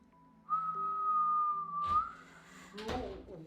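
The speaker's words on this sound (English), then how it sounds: "Whistle." A single clear whistle rings out in a video game as one long, sustained, slightly wavering note. It is followed by a couple of short rustling bursts.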